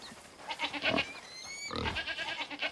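Goats bleat on a farm in Crimson Desert video game, two distinct nasal bleats about a second apart, close and clear over soft ambient game sound.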